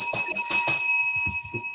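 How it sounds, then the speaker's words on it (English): A bell rung in a quick series of bright metallic strikes, its steady ringing tone sustaining throughout while low voices murmur underneath. "I'm going to be ringing the bell"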